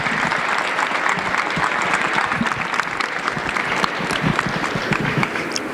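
An audience at an airline symposium in Colorado applauds steadily to welcome Captain Willie Daniels, a dense wash of many hands clapping at an even level throughout, with no voices breaking through.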